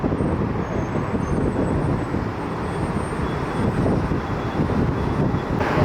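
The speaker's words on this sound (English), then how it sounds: "Got a Southwest 737 MAX taking the runway." A Southwest Boeing 737 MAX airliner taxis onto the runway at Fort Lauderdale, heard as a loud, steady jet engine roar at some distance, with a broad rushing hiss and faint higher whine.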